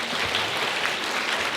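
Sustained applause from a crowd of guests at a wedding ceremony in a hotel hall, steady and dense clapping throughout, fairly loud and without speech.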